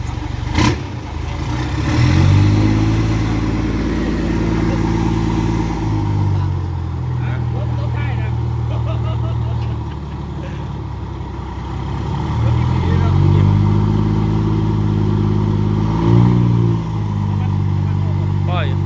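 A dump truck engine runs through the first test of its tipper lift, droning loudly and revving up twice in long surges, with people talking over it.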